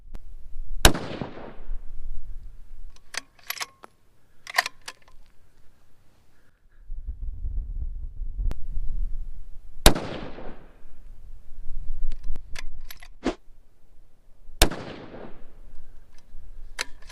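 Three loud, sharp 6mm Creedmoor rifle shots loaded with Varget powder and 105-grain Hybrid bullets, spaced about five seconds apart at a shooting range, each with a sharp crack and quick decay, with faint clicks and low rumble between.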